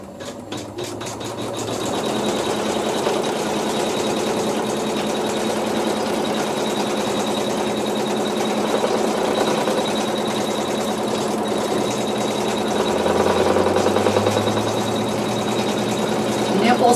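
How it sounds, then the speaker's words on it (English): A sewing machine stitches the seams for fabric scallops with neutral thread, a steady mechanical whir running continuously after a brief start, rising slightly toward the end. "now we're going to sew the seams for the scallops"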